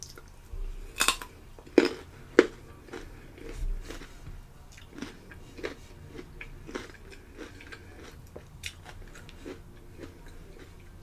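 Raw carrots are chewed close to the mouth, with a few sharp crunchy bites near the start followed by softer, irregular chewing and small crunches over quiet room noise.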